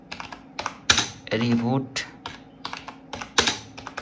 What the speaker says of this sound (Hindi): उसके लिए आपको टाइप करना होगा फास्ट बूट